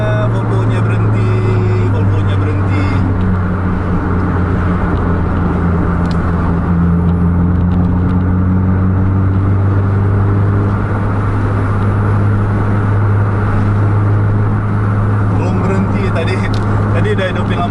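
A Volvo B11R engine in a Sempati Star Ultra High Decker coach drones low and steady while cruising a straight road, a constant close rumble with gently shifting pitch and people talking over it.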